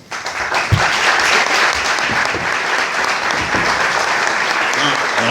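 Conference audience in Barcelona breaks into loud, sustained applause, dense clapping that swells in the first second and carries on steadily throughout, with faint voices mixed into the crowd.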